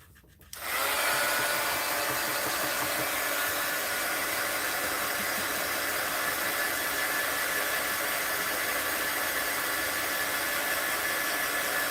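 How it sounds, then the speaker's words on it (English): A heat gun for mixed-media art journaling switches on after a brief quiet moment, then blows with a steady, loud, even whoosh that runs unbroken to the end. "heat gun alert"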